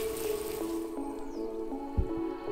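Newly planted garden plants are watered, producing soft drips, trickles and wet squishing splashes of water on foliage and soil, fairly quiet and close, with no voices.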